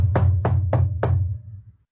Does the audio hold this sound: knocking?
yes